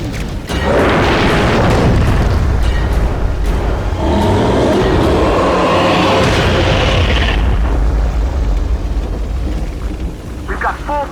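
Fully charged BFG blasts from the Doom 3 expansions burst in deep, booming explosions that roll into a sustained roar, loud and up close, with voices faintly underneath.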